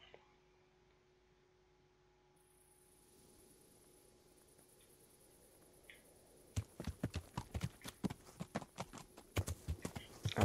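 Horse hooves in Kingdom Come: Deliverance on a night road, first faint ambience and insects, then loud close clip-clopping that starts partway through and keeps a steady rapid rhythm to the end.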